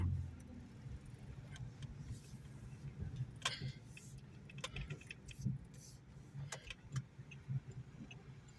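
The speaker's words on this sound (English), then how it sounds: "I got a car coming" A car draws near on a downtown street in McKeesport, Pennsylvania, its low engine rumble and tire noise growing steadily over about eight seconds, with jingling and handling clatter close by.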